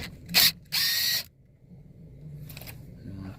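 A ratchet removing a screw under the steering column of a Chevy Malibu during turn signal switch replacement: two short bursts of close ratcheting, then quieter handling and a faint final burst.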